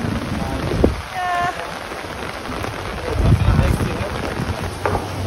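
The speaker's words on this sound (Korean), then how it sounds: "비가 엄청나게 와가지고." Heavy rain falls steadily across a tropical resort in the Maldives, a dense continuous wash with occasional thumps and a brief tonal chirp, while people speak faintly in the background.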